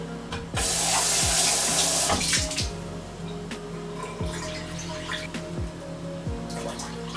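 Tap water running into a glass for crêpe batter, a loud steady rush of water with the pitch rising as the glass fills, followed by quieter splashing and handling clatter.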